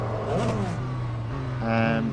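Race car engine in the Real Racing 3 video game, a steady droning whine that climbs and rises in pitch toward the end as the car accelerates, with a faint voice underneath.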